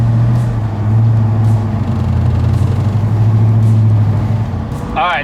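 A 1967 S-Code Mustang drives with a deep, steady engine rumble close by, idling and pulling at low revs with slight surges, and a brief squeak near the end.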